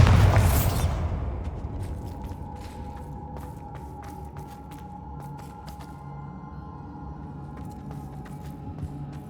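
A Bombarda blasting spell explodes in the Hogwarts Legacy video game: one loud, deep boom right at the start that decays into a low rumble, followed by scattered faint ticks and a steady hum of ambience.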